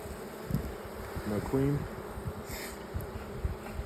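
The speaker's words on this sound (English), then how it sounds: "That is a tremendous amount of buzzing." Honey bees hum in a dense, steady buzz while a hive is opened for inspection, with a voice speaking briefly over the swarm's drone.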